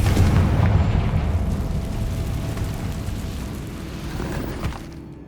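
A Confringo fire spell blasts in Hogwarts Legacy, a loud booming explosion at the start that rumbles and decays over several seconds, with a small pop near the end.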